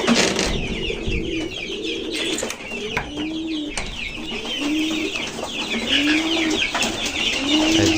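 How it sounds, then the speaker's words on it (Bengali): Domestic pigeons in a loft, repeated close low cooing calls at a steady pace over a busy background of fluttering and shuffling, with no talk. "এই যে আমার কবুতরের লক"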